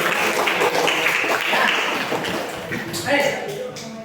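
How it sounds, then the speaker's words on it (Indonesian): A crowd claps in a dense, steady patter of applause, fairly loud and close, tapering slightly toward the end. "kasih tepuk tangan"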